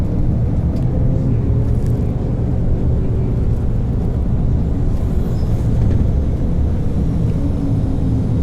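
Miami Metromover train approaching the Adrian Arsht Center station, a steady, loud low rumble of wheels and motor that fills the whole stretch without letup, with faint higher rattles and squeaks drifting above it.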